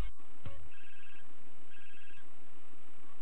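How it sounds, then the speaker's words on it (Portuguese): Telephone ringing in the video game GTA San Andreas on PS2, two electronic ring bursts with a short gap between them, clear over a quiet game background after a brief thump. "Vamos esperar o telefone tocar, né, velho."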